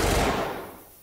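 Rapid automatic gunfire from a gun in a video game bursts loud and close, then fades out quickly over about a second.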